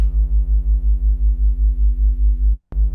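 A deep neuro bass made in the Vital synth pulses in a steady wobble that gradually slows, sustained and loud, then cuts out briefly before resuming.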